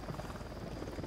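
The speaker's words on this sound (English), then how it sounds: "Chopper incoming." Helicopter approaching in the video game Ghost Recon Wildlands, heard as a dense, steady rotor thrum and whine, moderately loud and continuous, with no talk over it.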